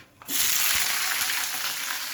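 Small fish hit hot mustard oil in a wok and burst into a loud, steady sizzle, a dense crackling hiss that starts abruptly and continues with slight bubbling pops.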